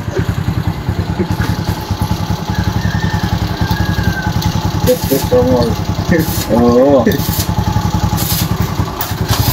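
A motorcycle engine run dry without oil runs roughly with a harsh, rhythmic mechanical clatter, close and loud, while people talk briefly over it.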